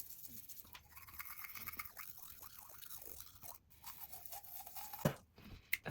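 A toothbrush scrubs teeth with Primal Life Organics tooth powder, giving soft, quiet rhythmic scraping strokes close by, with a couple of sharper clicks near the end.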